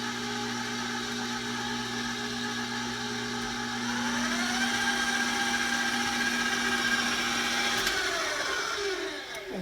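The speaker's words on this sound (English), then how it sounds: "Let's turn the mixer on slow again because I don't want to be covered in flour." A stand mixer runs on its slow setting, mixing gluten-free, dairy-free sweet potato muffin batter. It makes a steady motor hum with a rise in pitch partway through, close by and with no voices.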